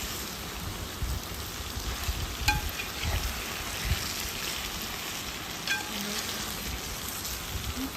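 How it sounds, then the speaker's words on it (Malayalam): Fried chicken being mixed into biryani masala in a pot, a continuous gentle sizzle with a few spoon scrapes and clinks, moderately quiet and close, with no talking. "ഇനി അതിലോട്ട് നമ്മളെ പൊരിച്ച് വെച്ച ചിക്കൻ ഇട്ട് കൊടുക്കാം. ഇനി ഇതും നല്ലപോലെ ഒന്ന് മിക്സ് ചെയ്തെടുക്കാം."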